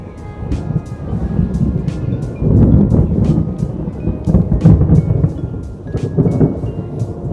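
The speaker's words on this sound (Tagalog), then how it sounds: "Buti lang di pa ganun kalakas yung ulan." Rain patters steadily outdoors while thunder rolls in low and heavy several times, loudest midway. The storm dominates, with no speech heard.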